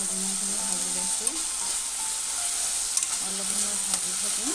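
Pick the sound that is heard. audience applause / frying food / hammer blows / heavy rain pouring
frying food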